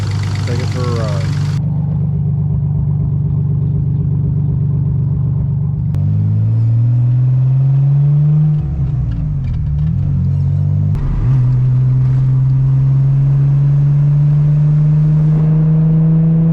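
A twin-turbo Nissan 300ZX with a manual transmission drives off, its engine droning steadily with a rise and dip in pitch around a gear change, loud and close throughout, with no voices.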